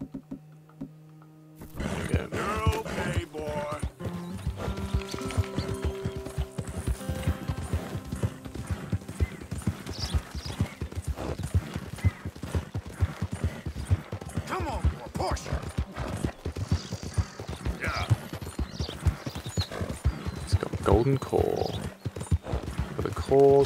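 Steady clip-clop of horse hooves with occasional whinnies, audio from the video game Red Dead Redemption 2 running continuously while a person talks over it.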